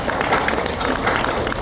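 Audience applause at a keynote speech by a health secretary at a medical center, a brief dense burst of many hands clapping with crowd noise, steady for under two seconds.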